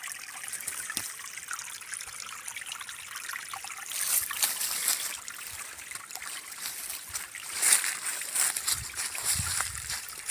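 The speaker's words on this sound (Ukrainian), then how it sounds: "Лісовий струмочок." A small forest stream in the Italian mountains trickles and burbles steadily over stones, a continuous close splashing wash with brief louder gurgles.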